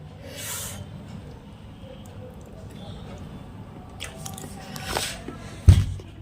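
Someone eating sudharas, a sweet dish made from Sontakka flowers with saffron, with soft wet chewing and biting sounds close to the mic, building to a sharper crunch near the end.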